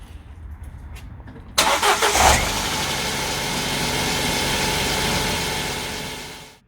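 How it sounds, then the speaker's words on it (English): A Ford KA engine with a newly replaced thermostat housing cranks over and catches after a quiet moment, then settles into a steady, close idle that runs on until the end. "Start her up"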